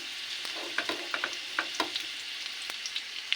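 Chopped garlic fries in a pan, giving a continuous soft hiss dotted with small pops and occasional light stirring scrapes. The sound is fairly quiet and close, with no talking.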